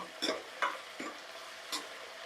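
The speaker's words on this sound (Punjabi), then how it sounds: "ਤੇ ਹੁਣ ਆਪਾਂ ਇਹਨੂੰ ਚੰਗੀ ਤਰ੍ਹਾਂ ਹਲਾ ਲਾਂਗੇ" A spoon stirs onion and tomato frying in a pan for moong dal, giving soft scraping strokes over a steady low sizzle, fairly faint and close.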